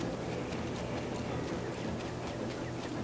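Horse hooves clip-clop steadily at a moderate distance in a period drama outdoor scene, a faint, even rhythm of soft knocks under a low background hiss.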